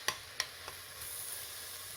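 Onions and tomatoes sizzle in a pan for an Indian-style masala egg pasta, with a steady soft fry under a few sharp clinks of stirring near the start; no talking.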